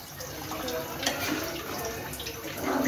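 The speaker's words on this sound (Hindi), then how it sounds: "अब मैं इसमें पानी लगाऊंगी थोड़ा सा" Water being added to frying minced meat keema with raw papaya in a home kitchen, a faint continuous hiss and trickle with small splashes, heard quietly and alone.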